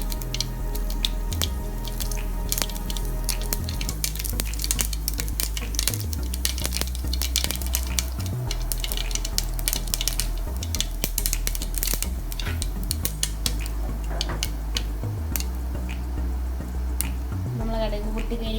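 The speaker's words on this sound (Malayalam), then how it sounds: "ഇപ്പൊ നമ്മളുടെ കടുക് പൊട്ടിയിട്ടുണ്ട്" Mustard seeds splutter in hot coconut oil in a pan, a continuous scatter of sharp close pops and crackles under a steady low background tone, with someone talking alongside.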